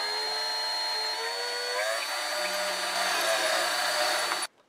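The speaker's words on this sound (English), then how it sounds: "So I was hoping I could drill it with my little micro chuck" Power drill boring a 3/16 inch hole for a Breville 870XL hot water and steam valve hose barb repair, a steady, close whine that holds for about four seconds before stopping abruptly.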